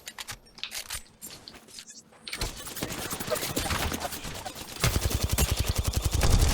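Rapid bursts of automatic gunfire from the video game Apex Legends grow denser and louder, layered over the quick clatter of a computer keyboard being typed on.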